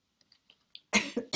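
A woman coughs several times at close range, a couple of rough, harsh bursts following a few faint rustles.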